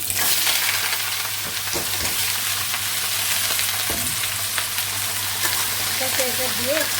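Panch phoron spices and vegetable curry frying in a pan, a steady close sizzle throughout with occasional scraping clinks from stirring, and a faint voice briefly audible near the end.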